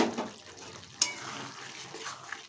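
Quiet scraping and stirring as ground roasted spices are mixed into a pan of keema khichuri, with a sharp metallic clink partway through and a soft sizzle underneath.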